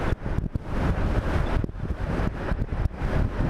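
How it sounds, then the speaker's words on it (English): Rushing wind roaring inside a helmet on an electric Zero motorcycle riding at around 47 mph, a loud, continuous buffeting rumble with no engine note and no talk. "I'm only hearing the wind in my helmet."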